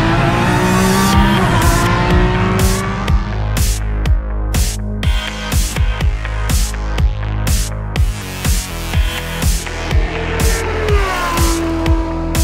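Lamborghini Essenza SCV12 track hypercar with its V12 revving hard on a race track, loud and close, with repeated throttle blips, rising pulls and sharp gear changes, tire squeal mixed in.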